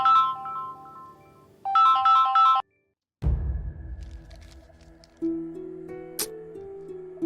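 A phone ringtone plays during an outgoing call, a looping melodic tone in bursts that stops, then resumes as a different steady tune, with no talking over it.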